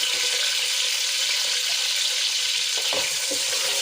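Curry leaves, thinly sliced onions and cumin seeds fry in hot oil in a pan, making a steady, dense, close sizzle that holds constant at full level, with a couple of faint stirring knocks near the end and no voices.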